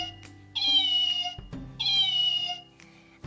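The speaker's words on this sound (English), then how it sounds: "this kitty has a button that says, press me because it will meow" Two electronic cat meows, each about a second long, bright and close, separated by a soft click, with a faint low hum beneath.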